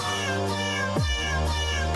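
A kitten meows loudly and continuously, a drawn-out, strained cry whose pitch slides down sharply midway before rising again. No voices accompany it.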